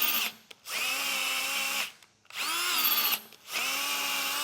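A power drill enlarges mounting holes in the bumper of a 2023 Jeep Gladiator in three loud, sustained whining bursts, each separated by a brief pause.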